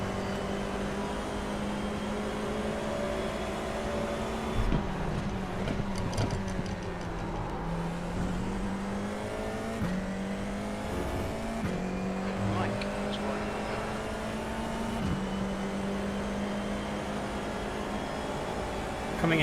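FIA F4 race car engine in iRacing, a steady droning whine that rises and dips with gear shifts throughout, close and continuous under occasional engine blips.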